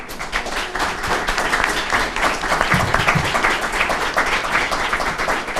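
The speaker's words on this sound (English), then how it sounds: "Let's give them a round of applause." Audience at a high school graduation rate roundtable applauds the panelists, a dense, steady wash of many hands clapping at close range that holds evenly for several seconds with no talk over it.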